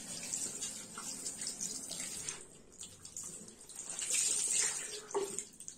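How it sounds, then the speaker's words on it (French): A small sponge cloth is rinsed under a stream of hot tap water at a sink, giving a steady, close splashing rush that swells and dips with brief louder gushes. "Je rince ma petite éponge, quoi, ma petite lingette, et je vais rerincer à l'eau bien chaude."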